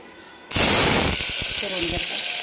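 A chopped onion drops into about one and a half spoons of hot oil for a spicy mutton curry, starting a sudden loud sizzle that keeps hissing steadily, with a few stirring knocks underneath.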